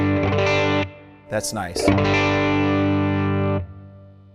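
Electric guitar played through a Fender Mustang GT amp on a tweed setting with the gain turned up, sustained distorted chords ringing loud, broken briefly by a short spoken remark before the tone rings out again.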